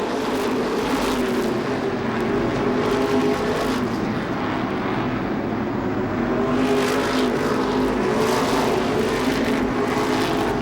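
Modified race cars at Seekonk Speedway roar in a dense, continuous pack down the front straightaway, a loud blended engine drone that swells as the field passes.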